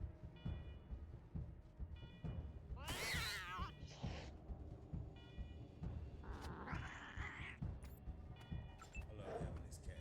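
A cat meows several times in the Wasteland 3 video game, short mid-pitched cries over a low game soundtrack and rumble, with someone talking between them.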